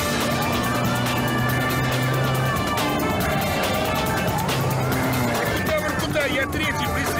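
A car accelerates hard in a police chase after a grey BMW, its engine roar buried in a dense, loud mix with wailing siren sweeps and voices.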